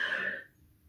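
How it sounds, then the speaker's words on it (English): A single short cough sounds close to the microphone, quickly fading into quiet room tone. "cough"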